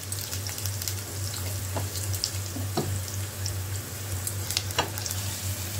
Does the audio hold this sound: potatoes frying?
yes